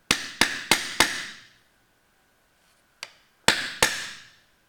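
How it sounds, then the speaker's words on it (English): A hammer strikes a wheel tool to seat dowels on a wooden alligator toy: four quick sharp taps, a pause, then a lighter tap and two more firm hits, each ringing briefly, close and loud. "you're going to have to pound them down a little bit at a time on both sides"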